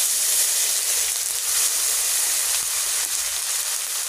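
Tomato going into hot oil tempered with Bengali five-spice and chilli while cooking rohu fish, giving a steady, close sizzle and hiss with no talk.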